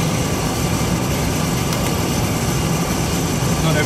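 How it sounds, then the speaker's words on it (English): A Beechcraft King Air's feathered propellers turn at reduced RPM near 410 to 420 on each side, giving a steady, loud, broadband roar and whoosh that holds constant and close throughout. "Now the props are feathered and the RPM has reduced to 410, 420 each side."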